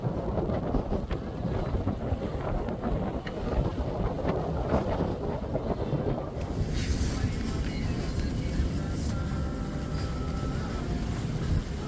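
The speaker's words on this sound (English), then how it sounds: "enjoying the sound of the water rushing past" Water rushes steadily past the hull of a sailing yacht under way at sea, a continuous close hiss and wash mixed with buffeting wind noise on the microphone and no break throughout.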